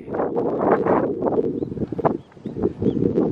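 Wind buffets the microphone in loud, uneven gusts at an allotment garden in Tokyo, rising and falling in rough bursts close to the recorder.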